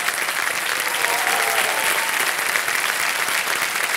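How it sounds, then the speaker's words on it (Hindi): A studio audience on the Kaun Banega Crorepati quiz show claps in a loud, even, sustained burst of applause with no talking over it. "तालियां बजाएं इनके लिए।"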